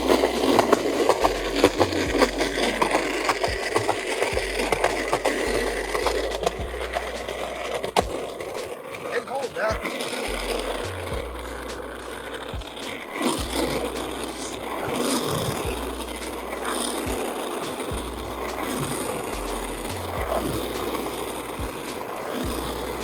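Morfboard electric skateboard rolling loud and close, with a steady rumble of wheels and motor holding through the whole stretch and brief rougher bumps along the way; no one speaks.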